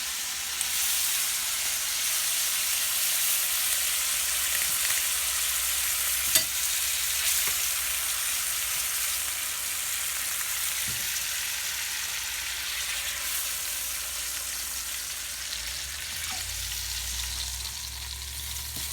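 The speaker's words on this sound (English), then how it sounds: "We just want to lightly sear it on each side." Bonito fish sears in a hot pan with a sugary marinade, giving a steady, loud hiss and sizzle throughout, with an occasional clink and a low rumble near the end.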